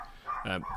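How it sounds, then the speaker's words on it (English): A dog barks once or twice nearby, a short sharp burst heard indoors in the background. "Sorry about my barking dog, by the way, if you can hear it."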